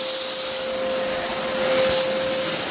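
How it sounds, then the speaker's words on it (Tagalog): A vacuum cleaner runs steadily during house cleaning, a loud continuous motor whine with a sharp steady tone and broad airy hiss throughout, no voices. "Nag-vacuum na kami dito."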